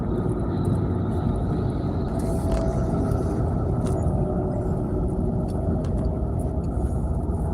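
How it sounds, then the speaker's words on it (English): Steady interior road noise from a car being driven, a constant low rumble with broadband hiss throughout and no talk. "Driving my wife's car,"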